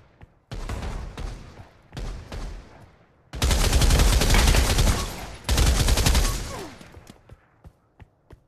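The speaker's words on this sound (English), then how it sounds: "let's try the LMG" Light machine gun from a WWII-era shooter game rattling out several loud, close sustained bursts, two short and two long, followed by a few isolated single shots trailing off.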